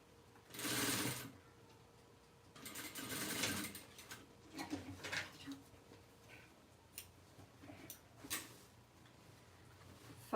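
A sewing machine stitches fabric for an ecobag in several short, close whirring runs, with soft clicks and handling noises between them and a voice speaking at times.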